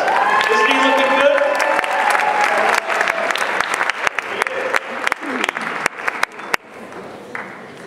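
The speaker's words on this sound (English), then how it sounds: "Let's give Mr. Hoff a round of applause" Audience applause fills a band holiday concert hall, dense steady clapping with some cheering that thins and becomes more scattered toward the end, while a voice talks faintly over it.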